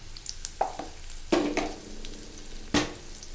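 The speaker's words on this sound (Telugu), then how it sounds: "పచ్చిమిర్చి, కరివేపాకు, ఆవాలు, కొంచెం పసుపు వేద్దాం." Green chillies, curry leaves, mustard seeds and turmeric hit hot oil for tempering, giving several sharp bursts of sizzle and crackle with a spoon scraping the pan between them, close up and without speech.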